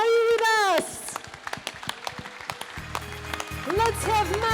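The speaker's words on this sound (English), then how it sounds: "We need more of the applause for the Maya." Crowd applause at the opening of the Majaland Kownaty theme park in Poland, welcoming Maya the Bee on stage: a clapping wash between bursts of amplified speech and music, fairly loud and continuous.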